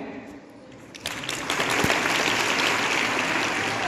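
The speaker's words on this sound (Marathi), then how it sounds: "मग सगळे का नाही वाजवत टाळ्या?" A school assembly audience claps together at a commemorative program, the applause swelling from scattered hand claps into a loud, sustained round that fills the room.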